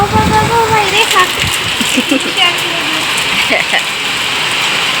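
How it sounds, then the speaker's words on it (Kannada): Steady rain pours down, a constant hiss under a voice talking loudly at the start. "ಫ್ರೆಂಡ್ಸ್ ನೋಡಿ ಫ್ರೆಂಡ್ಸ್ ಎಂತ ಮಳೆ"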